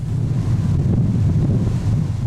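Strong storm wind roars steadily across the microphone, a dense low rumbling buffet with no let-up and no voices.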